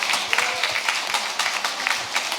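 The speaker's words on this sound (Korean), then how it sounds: "우리 큰 박수 하겠습니다" Congregation applauding at a Korean church worship service during a flower presentation to a pastor and his wife, a lively round of clapping with sharp irregular claps over a steady patter.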